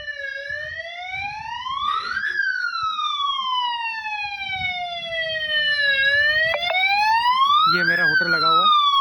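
A loud wailing hotel security alarm siren sweeps up and down repeatedly, steady and close, with a brief rapid warble near the end and faint background noise beneath.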